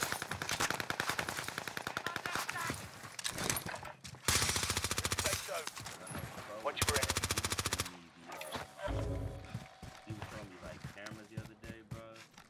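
Rapid bursts of automatic gunfire from an M13 rifle in the Warzone video game, Fortune's Keep map, dense and loud with repeated volleys and a brief pause, voices talking faintly underneath.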